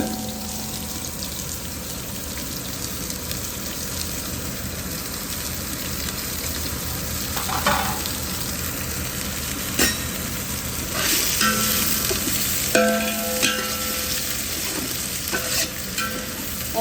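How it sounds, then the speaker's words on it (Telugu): Onions fry in hot oil for chicken biryani, a loud continuous sizzle with occasional scraping bursts as a spatula stirs them in the pot, close up and with no voices. "సో ఆనియన్స్ అయితే మాత్రం బాగా కొంచెం గోల్డెన్ బ్రౌనిష్ కలర్ వచ్చినంత వరకు బాగా ఫ్రై చేసుకోవాలన్నమాట"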